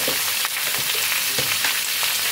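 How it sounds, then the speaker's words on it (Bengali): Chopped hard vegetables fry in oil with a loud, dense crackling sizzle up close, punctuated by a few soft stirring knocks. "সব কিছুকে একটু তেলের মধ্যে খানিকক্ষণ ভেজে নেব।"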